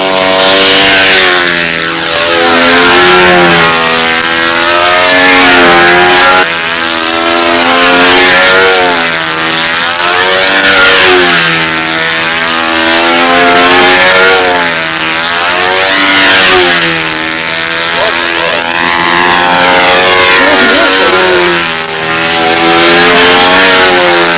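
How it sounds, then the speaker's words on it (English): A powerful model aircraft four-stroke engine spins a 60 propeller, running loud and close with a buzzing, harmonic-rich tone that swells and dips rhythmically as the throttle is worked up and down. "this is some powerful 4-stroke. This is turning a real 60 prop right now"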